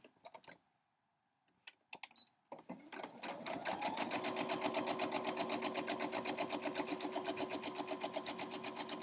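A sewing machine stitches quilt crumb strips with candy-cane print pieces, starting after a few soft handling clicks and settling into a loud, steady, fast needle rhythm that runs continuously to the end.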